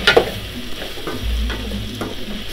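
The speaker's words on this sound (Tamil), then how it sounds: "தக்காளியும் பிரண்டையும் சேர்த்து நல்லா வதங்கி வரும்." Pirandai and tomato sautéing in oil while being stirred, a soft steady sizzle with scraping stirring strokes and a light clink near the start, close and quiet with no talk.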